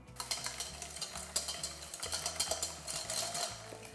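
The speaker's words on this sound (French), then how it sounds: "Je vais maintenant mélanger mes jaunes d'œufs avec la moitié du sucre" Egg yolks being whisked with sugar in a bowl for a strawberry tiramisu, a continuous rhythmic scraping and clinking of the whisk, steady and close, with no talking.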